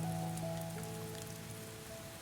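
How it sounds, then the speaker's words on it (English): Steady rain falls on a roof as a soft, even hiss that continues without a break, with a faint low hum running underneath and no voices. "The rain begins to weaken. It has been falling for hours. Now only scattered drops touch the roof."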